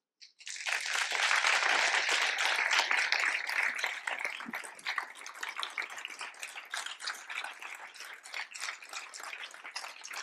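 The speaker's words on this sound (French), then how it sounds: "On l'applaudit." An audience breaks into loud, sustained applause, many hands clapping at once, gradually thinning and fading over ten seconds.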